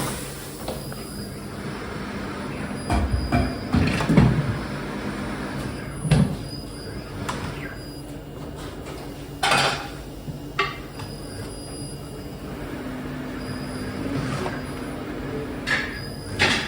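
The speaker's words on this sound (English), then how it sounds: "Now we'll put the new tyres on." New BF Goodrich tyres are fitted onto Chevy Tahoe wheels in a workshop, with intermittent metallic clanks, knocks and short sliding scrapes spread across a constant low background hum.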